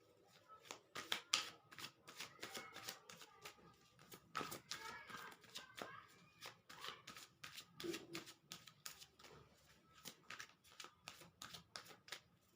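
Tarot cards being drawn out and handled, a close, quiet series of crisp slaps, flicks and shuffling rustles in an irregular rhythm.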